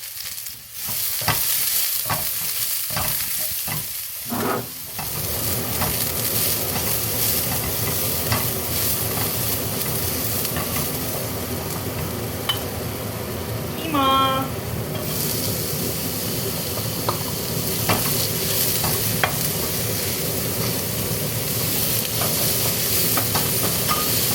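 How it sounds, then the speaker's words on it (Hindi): Onions sizzle and crackle steadily in a hot pan, with a few sharp clatters of stirring at the start, then continuous close frying hiss. "अभी तो मैं खाना बना रही हूँ ना, तो खाने की भी आवाज़ है"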